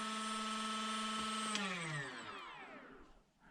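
A Furitek Komodo brushless motor in an SCX24 RC crawler running at maximum RPM, a steady high-pitched electric whine that holds, then winds down as the motor slows and stops, close and alone.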